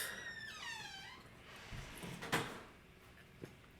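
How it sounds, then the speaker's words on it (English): A creaky door swings open or shut once, its rising and falling squeal sweeping across the first second and a half, followed by soft thuds and a brief clatter, close and fairly quiet with no talking. "Creaky door sound."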